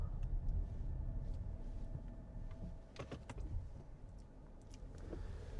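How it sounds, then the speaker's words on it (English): A 2025 Toyota RAV4 GR Sport hybrid drives along in hybrid mode, giving a steady low road rumble and muted cabin hum throughout, with a few faint clicks and knocks partway through and no talking. "Now we are driving in the hybrid mode actually, which means the car will switch between electric and gasoline engine."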